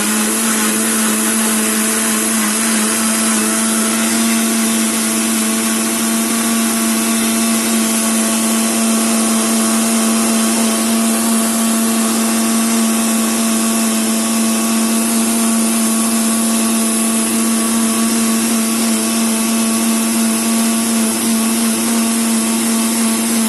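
An electric blender grinds muskmelon into a thick shake, a loud, steady motor whine that runs without a break from start to finish.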